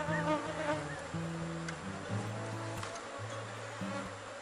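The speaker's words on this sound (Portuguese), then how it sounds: "Aqui, gente, é uma colmeia que está bastante forte." Strong honeybee colony buzzing steadily at the open hive, a dense continuous drone with layered wing tones that rise and fall slightly, close and alone without voices.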